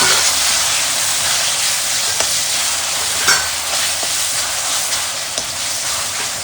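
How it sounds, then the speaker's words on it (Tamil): Tomatoes frying in an electric rice cooker for chicken biryani are stirred, with a steady, loud sizzling hiss throughout and faint spoon taps scattered through it. No one speaks. "தக்காளி ஒரு மிக்ஸ் பண்ணி விடலாம்."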